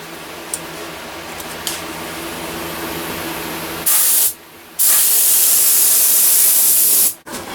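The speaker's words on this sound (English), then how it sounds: "I'm using automotive clear coat to get a really hard mirror-like finish" Automotive clear coat sprayed onto a dulcimer: a steady, loud hiss from the spray gun runs for about four seconds, breaks briefly, then resumes in a second long burst before stopping, with a few faint clicks beforehand.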